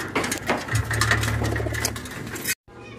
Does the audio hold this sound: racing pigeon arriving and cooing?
yes